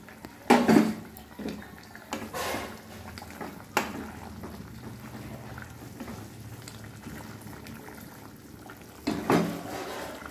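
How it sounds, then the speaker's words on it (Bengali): Fish curry gravy for koi fish tel jhal boils in a pot with a soft, steady bubbling, broken by a few close clattering knocks of utensils against cookware. "ঝোল ফুটে গেছে, এবার মাছগুলো আমি দিয়ে দেব"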